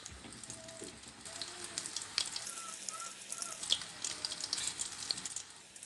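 Coconut and lemon beignets bubble and sizzle in hot frying oil, a steady close crackle with small pops throughout and no voices.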